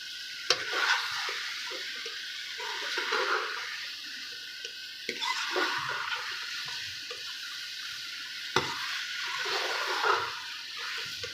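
Arbi and baingan masala is stirred and fried in ghee in a pan, with scraping spoon strokes recurring every few seconds over a soft sizzle, close and moderately quiet.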